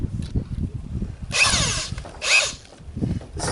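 Power drill driving screws into metal roofing panels, with two short whirring bursts up close. A steady low rumble of background noise runs between them.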